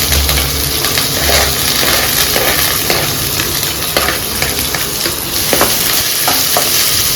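Chopped onions hiss loudly in hot oil as they are stirred in a pan for coriander chicken gravy. The sizzle is steady and close, with repeated scraping strokes of the spoon against the pan.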